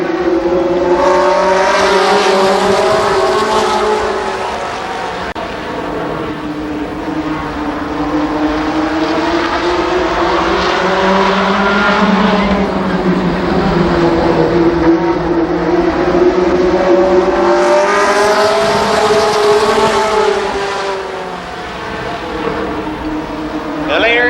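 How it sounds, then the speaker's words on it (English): Late model race cars roar around Columbus Motor Speedway in a heat race, engines droning and rising in pitch as the pack passes, with an announcer talking over the loud, continuous noise. "Await the gentlemen in the 1st late model heat race. Hamilton and Johns lead them around."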